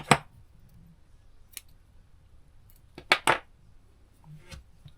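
Scissors snip the yarn end of a crochet tulip: a few crisp, close metallic clicks, one at the start, one brief one mid-way, and a quick double snip near the end, separated by near silence.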